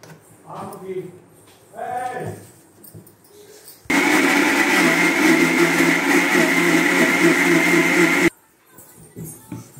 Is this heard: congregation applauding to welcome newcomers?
no